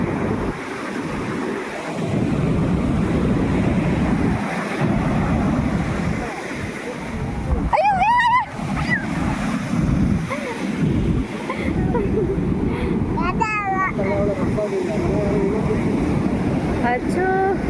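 Sea waves at Kovalam beach roll and wash continuously, close and fairly loud with wind buffeting the microphone, while a few voices speak briefly over the surf.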